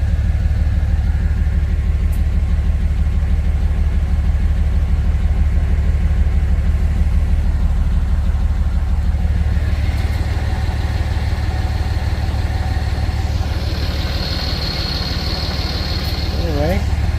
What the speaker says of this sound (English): Well, I'll show you how it starts up. You know, put your foot on the brake. Push button start.